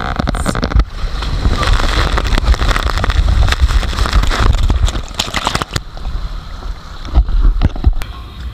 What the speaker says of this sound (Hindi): ये राइड है इंडिया की टॉलेस्ट राइड है 92 फीट्स की।